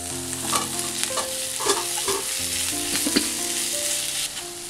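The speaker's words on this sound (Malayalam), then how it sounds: "ഇനി ഇത് നന്നായിട്ട് ഒന്ന് വഴറ്റി എടുക്കണം" Onion, green chili and tomato sautéing in a pan, a continuous close sizzle with repeated stirring scrapes of a spoon, no voices.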